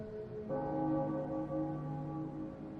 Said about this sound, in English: Perfect with that bell sound.